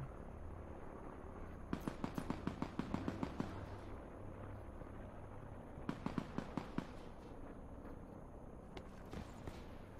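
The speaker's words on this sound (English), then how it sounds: "that's a lot of shooting I don't want to involve myself with" Gunfire in the video game Black Ops 4 Blackout: two rapid bursts of distant automatic shots with sharp, evenly spaced cracks, then a few scattered faint shots over a steady background hum.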